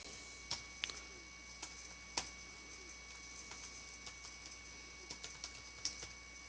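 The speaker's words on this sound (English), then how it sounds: "I'll just type in some information here" Faint, irregular clicks of typing on a home computer keyboard, with individual keystrokes tapping sparsely in a quiet room and a few sharper key presses standing out.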